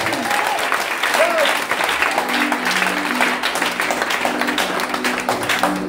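A church congregation applauding and cheering for the Lord, with steady, loud, sustained clapping from a large crowd and voices rising within it throughout.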